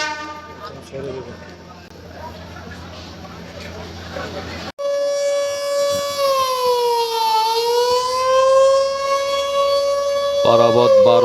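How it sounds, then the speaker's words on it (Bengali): A passenger launch on the Dhaka to Barisal route blasts its horn before departure, a loud, sustained, wavering tonal blare that starts abruptly after a stretch of busy crowd noise and holds steady to the end. "লঞ্চের হর্ন বাজানো হয়ে গেছে।"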